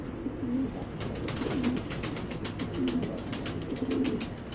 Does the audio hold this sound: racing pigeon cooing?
yes